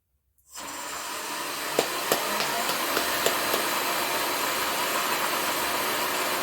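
A Shopsmith multipurpose woodworking machine starts up from silence and runs steadily at 3450 RPM, a loud, even whirring hum with a few faint clicks, close by and with no talking.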